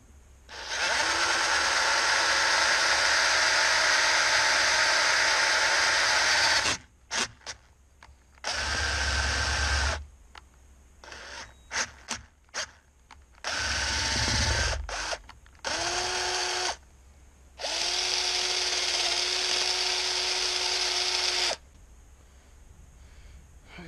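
A power drill bores holes through metal for a budget Barrett-style bipod build, whining loudly in long sustained runs broken by short bursts and pauses, with no talk over it.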